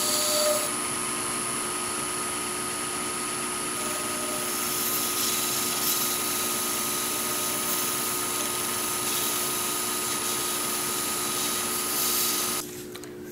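A wood lathe spins steadily while turning a cast resin needle case, a continuous even whine and hum that holds for about twelve seconds before dropping off abruptly near the end.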